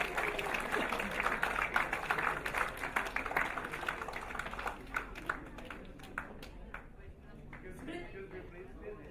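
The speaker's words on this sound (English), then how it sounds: "The clappings should not end. Please keep on clapping." Clapping from an audience at a silver jubilee celebration for a management program, loud and dense at first, then thinning into scattered claps as it fades, with a voice speaking over part of it.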